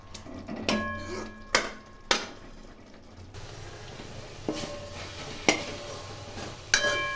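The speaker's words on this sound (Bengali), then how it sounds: "এইভাবে হাতা দিয়ে ক্রমাগত নাড়তে হবে" Date jaggery sandesh mixture stirred with a ladle in a pan, with several sharp metallic scrapes and knocks against the pan over a soft background hum, no talk.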